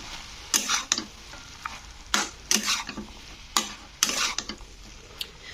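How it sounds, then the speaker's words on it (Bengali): Rice being mixed with tomato masala in a frying pan, the spoon scraping and turning in repeated bursts of stirring over a low background sizzle. "এবারে এটা পুরো মশলাটাকে কিন্তু ভাতের সঙ্গে মাখিয়ে নিতে হবে"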